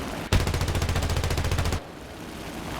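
Aircraft gunner's machine gun in War Thunder fires one loud sustained burst of rapid, evenly spaced rounds lasting about a second and a half, then cuts off abruptly to engine drone.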